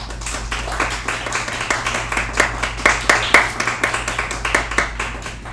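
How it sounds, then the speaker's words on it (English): A small crowd claps for a cosplay contestant at a fan event. The claps come in a rhythmic, fairly loud run that swells toward the middle, over a steady low hum. "Your applause for Nahar."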